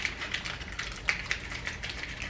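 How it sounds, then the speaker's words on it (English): Soft, continuous crackling and sizzling of garlic frying in a pan, fine irregular pops scattered throughout, fairly quiet. "The garlic's been frying for a little bit"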